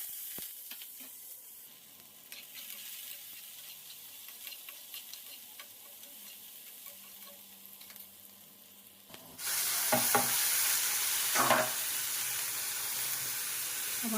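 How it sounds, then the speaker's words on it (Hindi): Chopped onions hit hot oil in a pan on a home gas stove, and after a stretch of faint kitchen clinks and quiet, a loud, sudden sizzle erupts and keeps hissing steadily until the end. "अब ये गर्म हो जाएगा ना जब इसमें डाल दूंगी प्याज"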